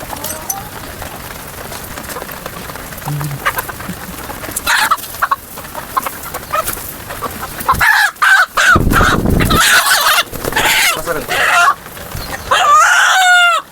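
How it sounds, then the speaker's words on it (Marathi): A free-range country rooster on a village poultry farm near Pune crows loudly several times and clucks, close by, with someone talking at times. "कोंबडा बघा कसा ओरडतो कंटिन्युअसली ओरडतो शांत बसत नाही"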